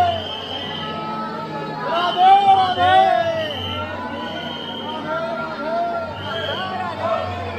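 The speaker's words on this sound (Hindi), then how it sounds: "इतनी भीड़ पब्लिक है" A large, dense crowd of visitors at Prem Mandir temple in Vrindavan fills the air with continuous close babble, many overlapping voices and occasional louder calls rising and falling throughout.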